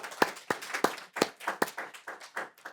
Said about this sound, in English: Thanks to our panelists. I think they deserve a quick round of applause.